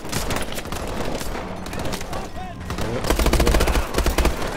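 Automatic and burst gunfire in the futuristic shooter Call of Duty: Advanced Warfare, dense and loud with a heavy low rumble, continuous over chaotic game noise.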